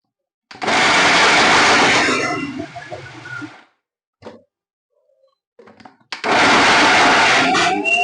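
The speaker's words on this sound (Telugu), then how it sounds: "ఇలా వేసుకొని ఇది కూడా అలాగే మిక్సీ వేసుకొని కలుపుకోవాలి" A mixer grinder grinding dry fruits for laddu: two loud, close whirring bursts separated by a quiet pause with a few knocks and thumps.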